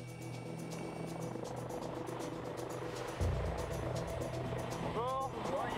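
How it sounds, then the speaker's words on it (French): A medical rescue helicopter lands in a field near an accident scene, its steady rotor and engine drone running loud and continuous throughout, swelling slightly as it touches down, with voices over it. "L'hélicoptère se pose dans un champ, à quelques mètres du lieu de l'accident."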